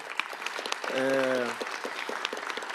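Applause from an audience at a formal solemn session, a steady patter of many hands behind a sustained sung or spoken voice that rises briefly in the middle of the burst.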